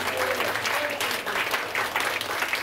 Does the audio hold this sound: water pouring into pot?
no